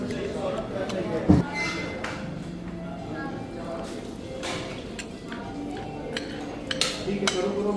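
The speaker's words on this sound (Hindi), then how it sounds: "फिर कांटे चम्मच से खा रही है अम्मा।" An elderly woman eats a sweet meal of besan halwa and gulab jamun with a fork and spoon. Light metal cutlery clinks and taps sound at close range, with one sharper knock, over steady conversation nearby.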